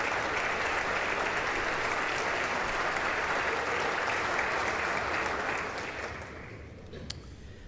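Dense applause fills the House chamber during a Speaker vote, a loud, sustained wash of many hands clapping that fades out over the last couple of seconds, leaving faint room noise.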